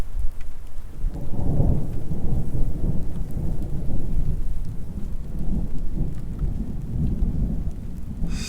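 Steady heavy rain pours alongside deep rolling thunder from a storm near the Beartooth Highway, a loud continuous rumbling wash with no voices.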